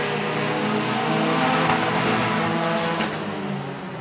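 Race cars roar past on a racing track during a heat, a dense continuous engine drone with layered revving tones, loud and steady throughout.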